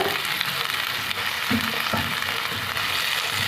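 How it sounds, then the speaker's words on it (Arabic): Onion, vegetables and hot pepper sautéing in a pan for ful, a loud, constant close sizzle with a few soft stirring scrapes and no talk. "هنا بندي الخضار تشويحه بس، ندبله"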